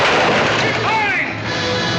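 Heavy gunfire and booming artillery roll through a 1940 battle scene, a dense continuous barrage with shouted voices mixed in.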